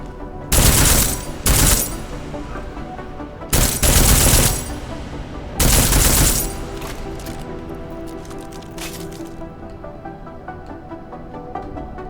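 Suppressed gunfire from Deus Ex: Mankind Divided, fired in several loud bursts separated by short pauses, with a rattling mechanical tail and game ambience continuing underneath.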